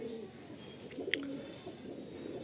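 Pigeons in a loft of Andhra Lalsira, Lambadi and Fulsira breeds, with faint soft cooing at a distance over a steady low murmur of room noise and a few brief chirpy notes.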